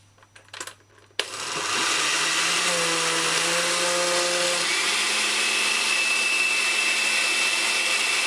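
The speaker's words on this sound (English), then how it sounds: "Blend it" A blender blending mango starts abruptly after a brief quiet moment and runs steadily and loudly, its motor whirring with a droning, slightly shifting pitch.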